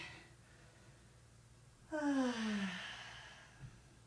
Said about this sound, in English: Take a nice deep inhale and exhale.